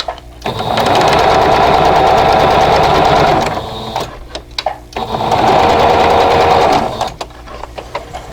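A sewing machine stitching pieces of a flower pot quilt block, two loud close bursts of fast steady whirring stitching separated by a pause with small handling clicks.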